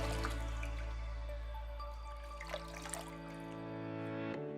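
Water running and splashing steadily as gel balm cleanser is rinsed off a face, with soft drips and splashes over a constant low hum, close and fairly quiet.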